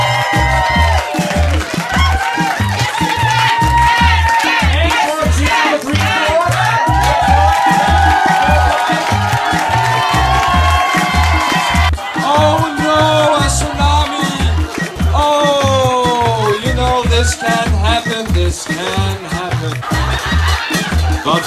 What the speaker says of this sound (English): can we have a cheer for team number one and team number two?